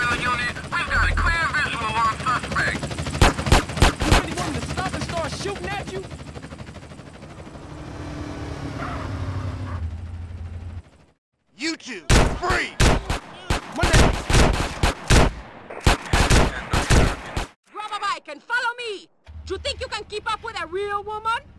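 Gunfire from Grand Theft Auto: San Andreas, loud bursts of rapid shots in clusters separated by short pauses, mixed with game engine noise and other effects.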